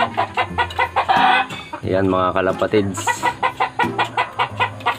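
Backyard chickens cluck in a steady run of loud, close, rhythmic calls, with someone speaking over them partway through.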